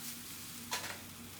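A cheese omelette is flipped in a sizzling pan: a steady low frying hiss with one soft, brief slap and a short flare of sizzle as it lands.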